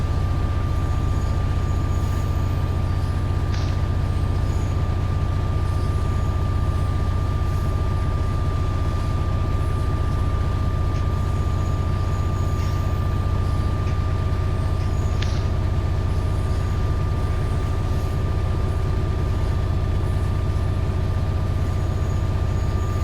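A Class 66 diesel locomotive running on the East Coast Main Line from Newark Northgate toward Doncaster in Train Sim World 5, giving a steady, droning engine rumble with a constant tonal hum and no talk.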